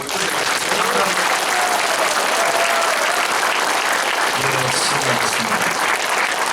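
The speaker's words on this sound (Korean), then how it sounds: "우리 이대영 회장님 다시 한번 여러분 박수를" An audience applauds at a ceremony launching a national committee, a loud, dense, sustained clapping that fills the whole stretch with steady, even intensity.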